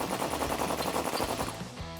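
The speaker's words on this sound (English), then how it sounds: "I'm using an impact gun." Impact gun rattling off a 19 mm sway bar end link bolt on a 2007-2021 Toyota Tundra, a close, loud burst of rapid hammering pulses lasting about a second and a half before cutting out.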